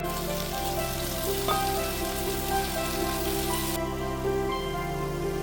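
Chopped onions sizzle in a pan already holding garlic, ginger, green chilies and curry leaves for a Kerala chicken curry, with a steady close frying hiss under soft background music.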